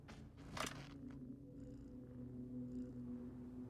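A cat purrs in the video game The Bookwalker, a steady low rumbling purr that runs through the whole stretch, with a brief sharp noise near the start.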